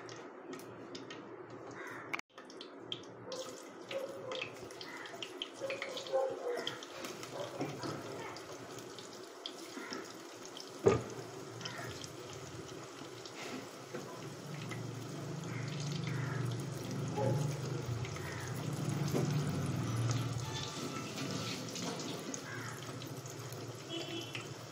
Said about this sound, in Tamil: எண்ணெய் காஞ்சோடனே இப்படி ஒன் பை ஒன்னாக போட்டு பொரிச்சு எடுத்துக்கணும்.